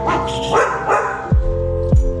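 A dog gives a few short yelping barks up close, with muffled sounds between them and no clear speech.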